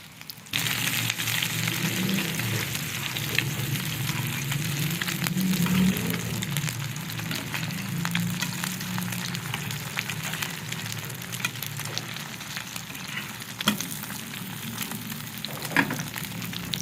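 Shami kababs coated in egg fry over low heat on a tawa, giving a steady, even sizzle with a soft crackle that holds at moderate level throughout, with a few faint clicks near the end and no talking.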